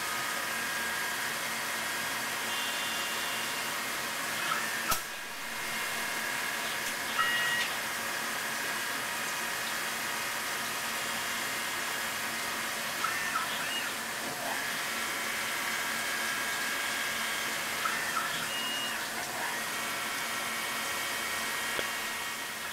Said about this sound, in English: is ground on CNC machines using a particular program which is called up from the machine's memory